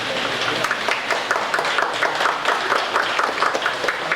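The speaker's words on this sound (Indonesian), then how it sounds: "Tepuk tangan untuk beliau Kanjeng Raden Tumenggung Meraja Wibakso" At an artists' award ceremony, the crowd applauds as a wayang orang performer is called to the stage, with close, lively clapping and a few sharper individual claps standing out against the steady wash.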